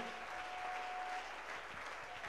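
Church congregation applauding in praise of Jesus during a French-language worship service, steady sustained clapping from a crowd filling the room, with no pause.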